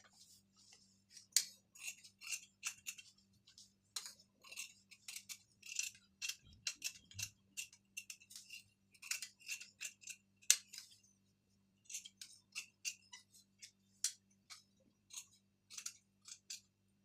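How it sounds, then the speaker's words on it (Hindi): Scissors snip through blouse fabric in quick close bursts of crisp cuts, with a short pause before the cutting resumes at the same pace. "अब ये पूरा हो गया है, अब इसको हम काट लेते हैं।"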